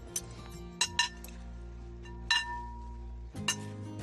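Utensils clinking against a bowl as pickled carrots and other ingredients are mixed together, several sharp metallic taps spaced irregularly over a quiet hum.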